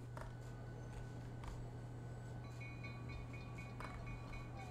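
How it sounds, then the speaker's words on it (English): A train rumbles past in the Roblox game Forsaken, a steady low drone with faint metallic clinks and squeals scattered throughout, fairly quiet with no talking. "there's a train behind it"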